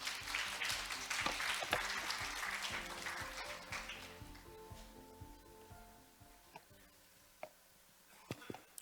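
Audience applause welcoming the final speaker at a youth jobs forum in Jeju, a burst of clapping that fades over several seconds into scattered claps and faint background sounds.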